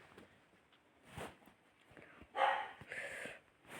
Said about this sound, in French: il continue d'aboyer